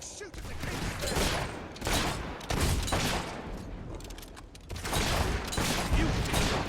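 Gunfire rattles in bursts during a castle battle in a video game, dense volleys rising and falling with brief lulls, while a voice speaks over the shooting.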